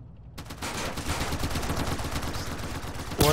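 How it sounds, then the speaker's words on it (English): Rapid bursts of gunfire ring out in a GTA San Andreas multiplayer shootout, a dense, sustained volley of shots after a brief quiet start, with a louder jolt at the very end. "Shots fired, Kane intersection."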